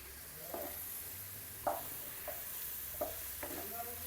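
Chunks of breadfruit sizzle in hot oil in a pan, with a steady frying hiss and a few distinct scrapes and knocks as they are stirred and turned.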